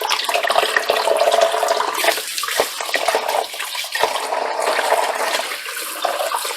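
Water running steadily into a bowl while stevia leaves are washed, a continuous rushing splash with a few brief knocks and dips, fairly loud and without speech.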